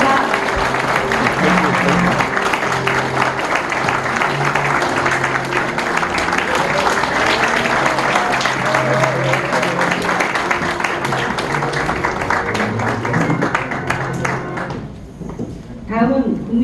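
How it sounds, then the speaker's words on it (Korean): Loud, sustained applause from an audience at a Korean community council ceremony in Jeju, welcoming a flag-bearer's entrance; the clapping runs steadily for about fifteen seconds under a busy hall murmur, then drops away near the end. "뜨거운 박수 부탁드립니다."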